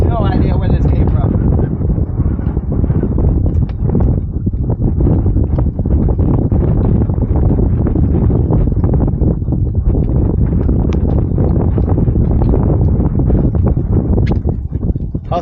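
Steady breeze blowing across Lake Guntersville in August, a constant rushing buffet on the microphone with faint water chop, continuous and loud throughout.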